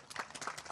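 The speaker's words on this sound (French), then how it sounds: "Je vous demande d'applaudir, monsieur le directeur général." A brief burst of applause at a ceremony honouring a director general and former workers of the broadcaster RTI. Several hands clap quickly for under a second, fairly near.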